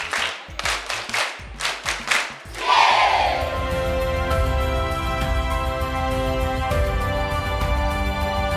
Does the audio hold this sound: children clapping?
yes